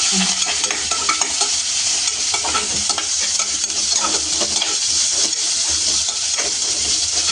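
Steady, loud sizzling of onions frying in hot oil, a continuous crackling hiss with occasional stirring clinks, no voices.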